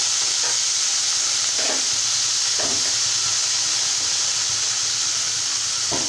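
Tomatoes fry in oil in a kadai, a steady broadband sizzle and hiss running throughout at close range, with a few soft stirring scrapes breaking through and no voices.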